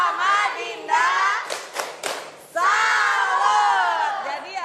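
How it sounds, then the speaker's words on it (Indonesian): At an Indonesian presidential event launching digital learning, a crowd of children cheers and shouts loudly, with a brief burst of clapping in the middle before the chorus of voices resumes. "kasih tepuk salut"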